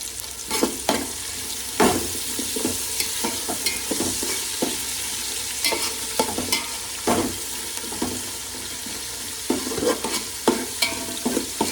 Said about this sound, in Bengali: এটাতে আমি একটা একটা করে সব ভাজা করতে থাকবো